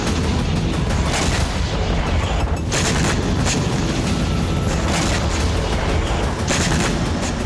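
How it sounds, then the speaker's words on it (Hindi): Bombardment of a residential area of Kharkiv, a dense barrage of booming blasts and sharp cracks, loud and continuous with bursts of heavier impacts, no talk. "रूस ने खार्किव के रिहायशी इलाके में एक के बाद एक कई धमाके किए।"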